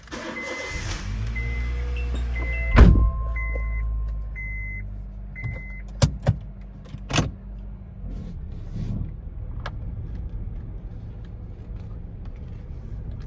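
A car is started and moved out in a Thai village: an engine turns over and runs at a steady idle, with a few sharp clicks and thumps of doors or handling nearby.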